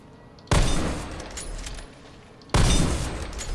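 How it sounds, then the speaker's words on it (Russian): Two loud, booming shots from a Steyr Scout rifle in a video game, about two seconds apart, each with a sharp onset and a long rumbling tail that fades slowly. "Сейчас посмотрим, как она стреляет."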